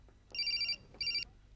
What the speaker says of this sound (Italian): ma lei mi suona il cellulare!